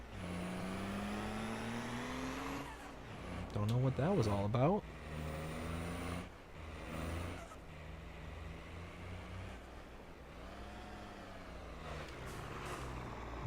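Truck in Farming Simulator 22 idling and revving with a brief burst of engine strain midway, steady mechanical drone throughout while someone talks over it.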